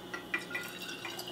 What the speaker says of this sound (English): I'm going to pour about half of the mixture into the bottle right away.